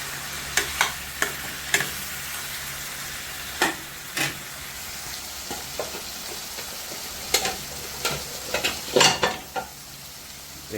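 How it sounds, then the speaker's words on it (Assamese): Eel meat fries on low heat in a pan in an Assamese kitchen, giving a soft, continuous sizzle broken by scattered sharp clicks and scrapes of stirring. "এতিয়া কম জুইত ভাজি থাকিম"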